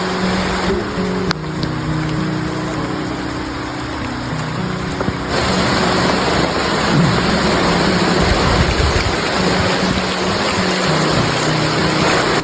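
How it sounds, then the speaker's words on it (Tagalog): Heavy rain pours steadily on a tree house in the mountains, a dense, loud hiss that continues throughout with a few low rumbles underneath. "bigla namang lumakas dito ang ulan."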